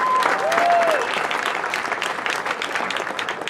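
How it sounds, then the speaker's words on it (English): Crowd applause at a high school football game, Pen Argyl at Wilson, honoring an honorary captain; steady dense clapping fills the stadium throughout, with a brief whistle-like tone near the start. "Ladies and gentlemen, let's have a nice round of applause for Corky Blake."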